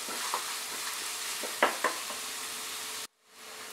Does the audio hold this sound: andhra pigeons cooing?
no